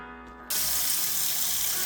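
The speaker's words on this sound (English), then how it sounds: "so I will rinse all of my vegetables off" Tap water starts abruptly and runs in a steady hiss as vegetables are rinsed at a sink, loud and close for the rest of the moment.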